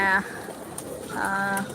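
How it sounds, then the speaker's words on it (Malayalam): Pigeons, native and crossbred birds, give two soft, close coos, one at the start and a longer one near the end, with a quiet gap between. "ഇതില് നാടൻ പ്രാവുണ്ട് ക്രോസ് പ്രാവുണ്ട്"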